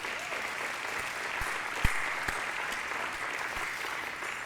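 An aviation hall of fame ceremony audience applauds in a large room, steady moderate clapping with a few sharper knocks standing out, heard from a distance.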